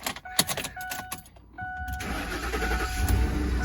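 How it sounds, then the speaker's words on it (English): A Ford F-150 pickup engine cranking over after an oil change, clicks and short bursts first, then catching and settling into a steady rumble. "start the engine."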